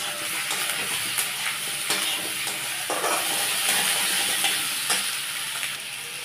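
Potatoes and onions frying in a pan, with a constant close sizzle and occasional scraping stirs and light knocks, steady and unbroken, no speech.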